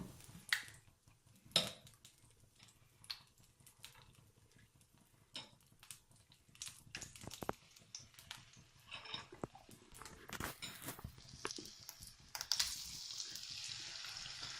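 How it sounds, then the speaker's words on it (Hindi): Chicken pieces drop into hot oil in a pan, setting off soft intermittent sizzling and sharp crackling pops with scattered louder spatters over a quiet background. "अब तेल गर्म हो चुका है, अब हम इसमें चिकन डाल देंगे।"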